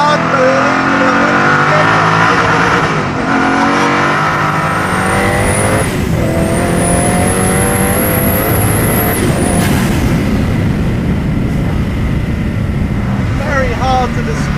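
A Koenigsegg Agera supercar engine roars loudly on a small track and revs hard, pitch climbing through several surges with short drops between, continuous and close.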